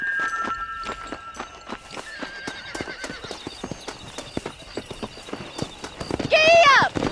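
Horse hooves clip-clop in a quick steady rhythm during Red Dead Redemption gameplay, ending in a loud whinny, with voices talking over the hoofbeats.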